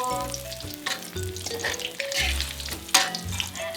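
Small fish frying in hot oil in a home kitchen, a steady close sizzle with crackling bursts running throughout, laid under a tonal music bed.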